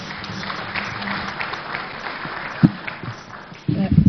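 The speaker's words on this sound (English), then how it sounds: "Can we recognize them with a hand of applause?" An audience at an architects' induction ceremony applauds the Ghana Dance Ensemble, a moderate spread of clapping with a few sharper thumps and a voice speaking over it near the end.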